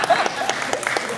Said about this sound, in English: Oh, applause already.